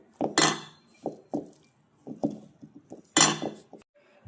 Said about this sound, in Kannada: ಈ ಥರ ರೈಸನ್ನು ಕಲಿಸ್ತಾ ಎಲ್ಲವನ್ನು ಚೆನ್ನಾಗಿ ಮಿಕ್ಸ್ ಮಾಡಬೇಕು